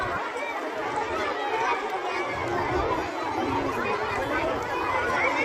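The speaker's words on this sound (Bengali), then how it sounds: "ভিড়, কি হারে মানুষ আসছে।" A dense crowd at Pirtala railway station fills the air with continuous overlapping chatter and the shuffle of many people arriving, a steady, busy murmur with no single voice standing out.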